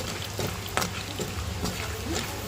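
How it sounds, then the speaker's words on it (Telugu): Tempering seeds fry in a pan, a soft continuous sizzle broken by a few small crackles and pops, close and fairly quiet. "పోపు గింజలు అయితే కొంచెం బాగా లైట్ బ్రౌన్ కలర్ లేగిందాక ఫ్రై చేసేసుకోవాలా"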